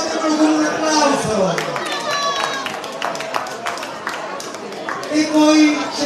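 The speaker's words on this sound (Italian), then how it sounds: "Dimostratelo con un applauso" Crowd applause at a public gathering in Cento di Ferrara, a burst of clapping from many people under loud voices, with chatter and talk continuing around it.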